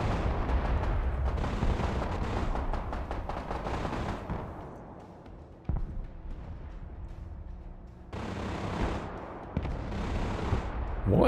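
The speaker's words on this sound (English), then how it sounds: "I keep seeing explosions" Explosions and gunfire from the video game Broken Arrow make a dense, continuous barrage of booms and rattling shots, loud and sustained with brief dips, with no talk over it.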